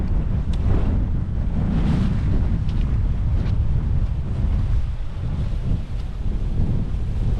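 Strong wind sweeps across open Dartmoor moorland at a wild camp, a loud continuous roar with heavy buffeting against the microphone and no voices.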